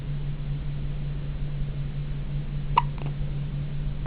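A newborn in a hospital gives a single small hiccup, brief and faint, over a steady background hum.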